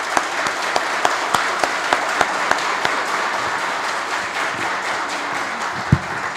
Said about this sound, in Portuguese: Dá um salve de palmas para ele, né?